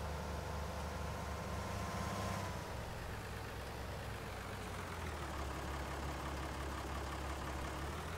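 A new tractor idles in the farming game Farming Simulator 19, giving a steady low engine rumble with a constant drone that runs evenly throughout, with no talk.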